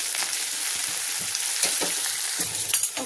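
Onions and dried red chillies fry in hot oil with a close, loud crackling sizzle, punctuated by quick stirring scrapes and pops.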